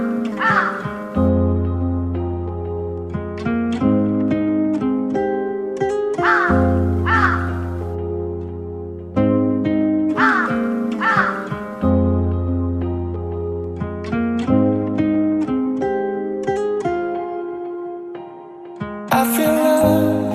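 Repeated loud crow caws from a cartoon, coming in clustered bursts over a steady tonal music bed, with no talking.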